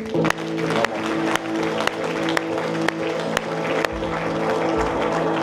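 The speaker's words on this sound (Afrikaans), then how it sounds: "Kan ons die Here vanmôre 'n hande klap gee?" A church congregation claps along, steady hand claps with sharper accents roughly every half second, running over sustained tonal music for the whole stretch.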